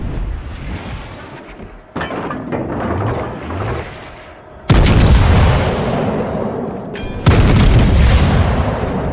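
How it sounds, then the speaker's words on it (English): Heavy naval guns firing from a Sevastopol cruiser in the video game World of Warships Legends, with four loud booming salvos spaced a few seconds apart, each rolling into a long rumbling tail, up close and without speech. "Gonna take another blind fire."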